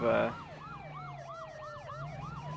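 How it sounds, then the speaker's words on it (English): A wailing police siren in the game Arma 3 sweeps up and down repeatedly, with a second overlapping tone, over steady road rumble after a brief horn-like blast at the start. "We're going to go Sirens and Lights on here, code 3."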